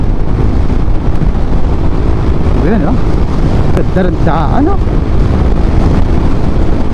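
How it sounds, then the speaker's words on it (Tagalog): Heavy wind buffets the microphone while riding an open Suzuki Raider 150 motorcycle with no windshield, a loud constant roaring rush throughout, with a short spoken remark partway through. "Ang hangin lang masyado kasi nga open na open."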